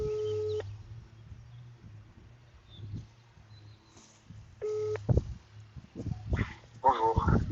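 A phone call to a lawyer's office rings out, with steady telephone ring tones repeating as a low hum with short beeps, followed by louder clattering handling noises near the end, with no clear talking.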